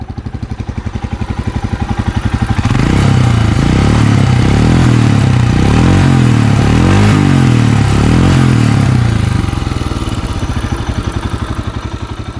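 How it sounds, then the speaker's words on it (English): A 2020 Royal Enfield Himalayan BS6 motorcycle engine idles with a throbbing exhaust, then revs up loudly several times in rising and falling surges before settling back to idle. "let's hear the exhaust sound of this bike"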